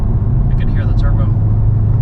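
A 2021 FK8 Honda Civic Type R on stock mufflers rolls down the road, its engine a steady low drone heard from inside the closed cabin with the AC running, while a voice talks over it.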